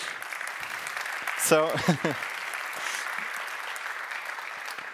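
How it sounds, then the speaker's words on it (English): Conference audience applauding steadily through a keynote at Neos Con 2022, a dense even wash of clapping that holds from start to finish while someone briefly speaks over it midway. "isn't that nice to get an applause for a number?"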